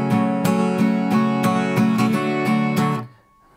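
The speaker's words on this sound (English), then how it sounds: "We don't want it to sound all loud and smooth in this section." Acoustic guitar strums the chords loud and smooth, with even, ringing downstrokes in a steady rhythm. It plays solo and close, then stops abruptly at about three seconds.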